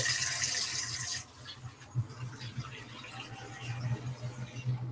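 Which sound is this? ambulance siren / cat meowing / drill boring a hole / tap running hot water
tap running hot water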